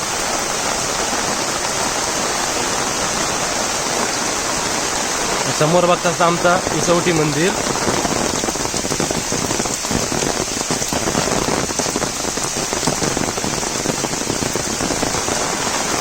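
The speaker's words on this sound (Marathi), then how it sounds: "आज तुफानच पाऊस लागता" Heavy monsoon rain pours down steadily in Konkan as a loud, dense hiss that lasts throughout, with someone speaking over it partway through.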